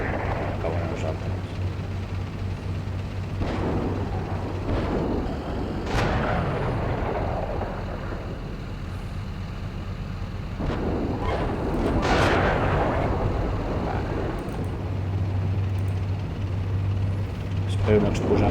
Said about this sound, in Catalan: Això és artilleria.